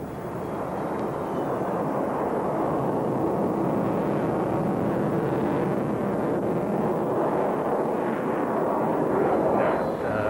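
A Sukhoi Su-27 Flanker twin-engine jet fighter roars steadily overhead, a loud, sustained broadband jet rumble with no speech.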